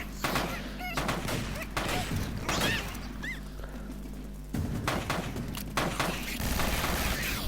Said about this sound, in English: You just run around shooting zombies.